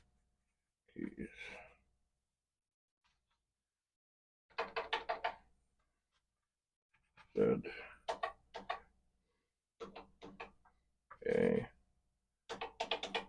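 Keys on a dusty, dirty old Commodore PET 2001 keyboard are pressed in short bursts of clicks and knocks, some struck repeatedly, with quiet gaps between and a few words spoken.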